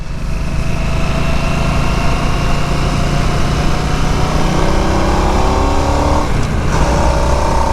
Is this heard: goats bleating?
no